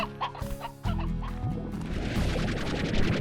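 Clucking chickens in Slime Rancher, a close run of squawks and clucks over a busy game soundscape with a thump partway through.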